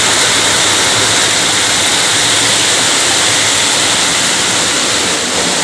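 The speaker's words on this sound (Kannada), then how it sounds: "ಇವತ್ತು ಬೆಳಿಗ್ಗೆಯಿಂದಲೂ ಒಂದು ಸ್ವಲ್ಪ ಮಳೆ ನಿಂತಿಲ್ಲ ನೋಡಿ, ಫುಲ್ಲು ಮಳೆ ಬರ್ತುಂಟು." Heavy rain pours without a break during a dark morning downpour, a dense, steady roar of water close by that fills the whole clip with no voices.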